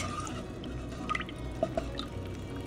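Whey drips from freshly curdled cheese as it is strained after being lifted out with a ladle, a few faint, sparse droplet plinks over a quiet kitchen background.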